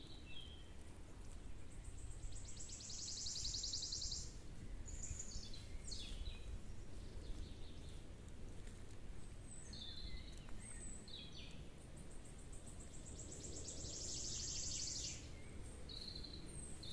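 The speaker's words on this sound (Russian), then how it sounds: "В лесу гулять одно удовольствие. Тишина, и только птички поют." Several birds sing in a quiet forest, faint and distant, with high repeated trills and short chirps coming in bursts over a soft hiss of insects.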